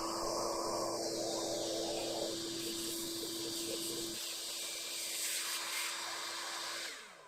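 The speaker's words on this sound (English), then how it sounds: "I've just got my big shop vac and I'm gonna clean this out" A big shop vac cleans out the DC to DC air filter of a 2021 Toyota RAV4 Prime, giving a loud, steady suction whine whose pitch shifts as the nozzle moves, then cuts off at the end.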